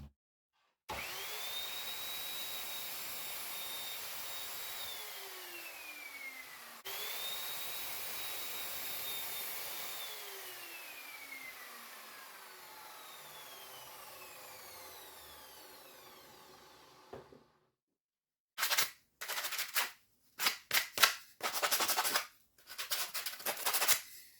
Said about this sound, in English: I'm going to take it to the miter saw, chop it down